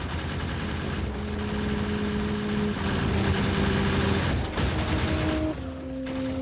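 Gun turrets firing at biters in Factorio, a dense continuous rattle of rapid fire at steady loudness, layered with droning machinery and tonal hums that shift pitch.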